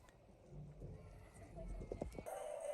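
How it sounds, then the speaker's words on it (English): Horses at a county fair horse show in a city arena, with hooves clip-clopping and a brief whinny amid background crowd voices, moderately close. "There was also a horse show at the city arena where kids young and old competed in various horseback competitions"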